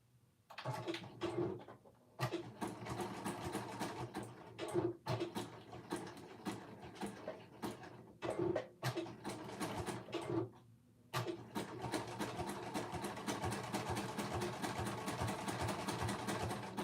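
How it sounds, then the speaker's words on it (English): A sewing machine runs in long stretches, stitching a 3/8-inch fabric seam on a handmade ringer T-shirt, with a steady buzzing whir that stops briefly a few times before resuming, fairly quiet and with no talk over it. "we're going to stitch that right sides together at a 3/8 seam allowance"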